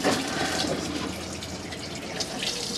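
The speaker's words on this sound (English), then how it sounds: "The water's working there and it's getting up to temperature." Tap water runs steadily into the sink of an Elddis Encore 255 caravan, a close, continuous hiss of flowing water with no talk over it.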